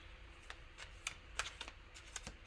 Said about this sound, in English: I'm just gonna pull 4 cards after I shuffle this other pile of cards